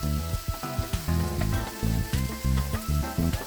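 Mushrooms sizzle loudly in a hot pan as a wooden spoon stirs them, producing a continuous crackling fry with rhythmic pulses of scraping. It is close and dense, and there is no talking.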